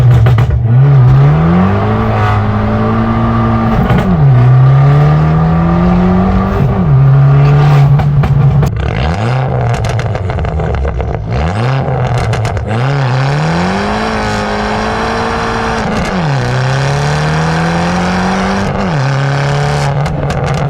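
An Abarth 595 Turismo Stage 2 accelerates hard from a standing start, its engine note climbing steadily through several gears with sharp drops at each shift, loud and close throughout.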